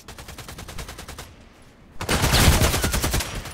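AK-12 assault rifle firing in the video game Contract Wars, with a rapid automatic burst, a short pause, then a louder, denser burst of closely spaced shots, close and forceful, with no talking.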